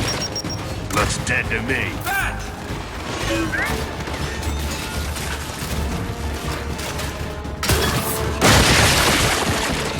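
Frag grenade blasts and heavy gunfire in the video game Gears 5, dense combat noise with a sharp loud burst near the end while a character speaks over the action.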